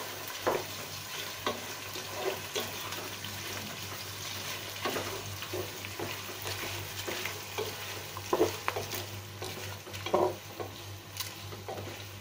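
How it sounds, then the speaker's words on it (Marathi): Onion and green chili being sautéed in a pan for vegetable pulao give a soft, continuous sizzle, punctuated by irregular spatula scrapes and stirring clatter, close but fairly quiet, with no one speaking. "हा कांदा आणि मिरची आहे ना ती टाकायची आहे परतून घ्यायचं"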